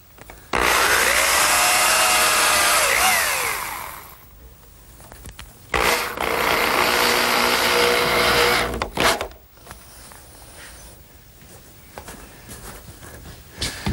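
A power tool drives fasteners into wooden bottom slats of an outdoor lidded bench: two long, loud, close bursts of whirring, then quieter handling and a few brief bits of tool noise.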